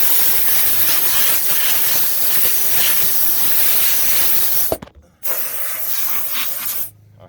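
A harsh, steady rush of compressed air blows off the 48-inch deck of a John Deere X758 4x4 diesel mower, close and loud, cutting out briefly twice before resuming.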